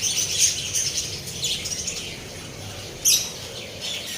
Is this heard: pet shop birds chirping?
yes